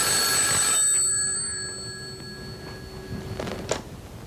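A telephone rings indoors with a sustained electronic bell tone that fades and then sounds again briefly, fairly faint and without talk over it.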